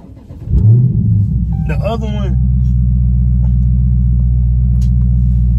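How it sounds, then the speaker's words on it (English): A car engine cranks and fires up, then settles into a steady, close, rumbling idle while someone speaks briefly over it. "let me start my car"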